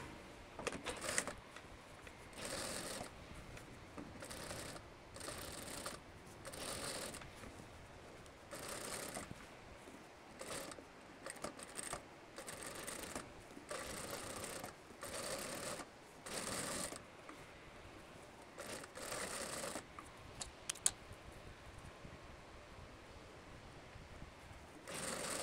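Sewing machine running the second seam of a French seam on a skirt: repeated short bursts of rapid mechanical stitching, evenly spaced with brief pauses, quiet and steady throughout.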